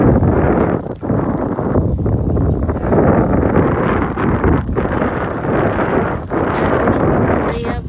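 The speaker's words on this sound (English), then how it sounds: "the wind is really picked up" Strong wind blows across a campground at North River Campground in Shawboro, North Carolina, roaring and buffeting the microphone loudly and steadily throughout, with small dips between gusts.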